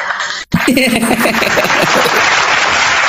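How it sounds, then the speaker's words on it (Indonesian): Audience applause fills the room after a brief pause: loud, sustained clapping with a steady wash of crowd noise to the end. "Tepuk tangan untuk Akang."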